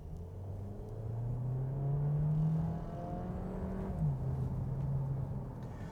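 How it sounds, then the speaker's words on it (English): A 2024 Volkswagen Taos small SUV accelerates from inside the cabin, its engine droning and rising in pitch through the gears with a brief shift dip midway, steady and moderately loud. "let's get a little acceleration test here"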